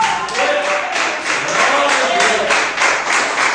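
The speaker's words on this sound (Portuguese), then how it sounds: "Você pode aplaudir o Senhor por isso?" A church congregation applauds loudly and continuously during a Pentecostal service, a dense wash of clapping with faint voices mixed in.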